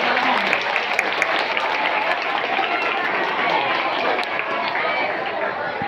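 Students at a school investiture ceremony clapping as the yellow house's fourth-place points are announced, a loud, sustained burst of many hands with crowd chatter mixed in.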